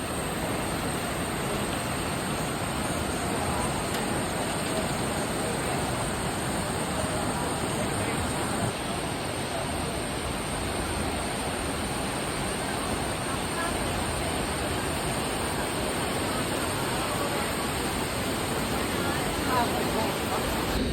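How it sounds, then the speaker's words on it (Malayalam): A swollen river rushes hard in rainy weather near Kottiyoor temple during the pilgrimage season, giving a steady, dense, close roar of churning water that holds an even level and never lets up for the full stretch. "കുത്തി ഒഴുകുന്ന പുഴയാണ് കാണുന്നത്."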